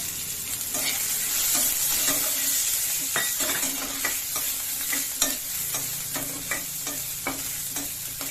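Mustard seeds, cumin, onion and curry leaves fry in oil for a beans palya, a steady sizzle broken by repeated scraping and clinking stirs of a utensil against the pan, close and unaccompanied by speech.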